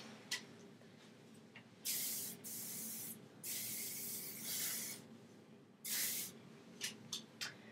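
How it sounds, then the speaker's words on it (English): Several bursts of aerosol hairspray hissing close by, some long and some short, separated by quiet pauses. "spray it all with hairspray so it has some texture and body"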